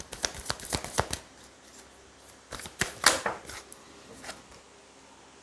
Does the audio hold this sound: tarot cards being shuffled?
yes